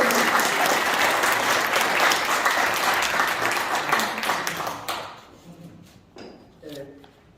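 Applause from an audience at a Korean knowledge forum lecture, a dense sustained clapping that fades out over the last couple of seconds, leaving scattered claps and a voice.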